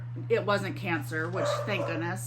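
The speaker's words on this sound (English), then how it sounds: "sorry about the dogs barking." Dogs barking and yipping, with some whimpering, in a home where they hear a person talking upstairs; several short barks sit under a woman's continuous speech and a steady low hum.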